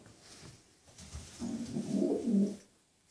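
Homing pigeons coo close by, a low throaty burst swelling midway and fading out, with faint shuffling beforehand.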